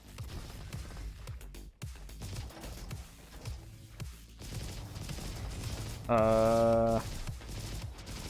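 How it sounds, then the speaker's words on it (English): Gunfire crackles through the sci-fi robot shooter Roboquest, rapid bursts of shots and impacts running steadily through the scene at moderate loudness, a player's brief exclamation mixed in. "Wait, where am I getting shot at from? Who is firing at me? Who is shooting gun?"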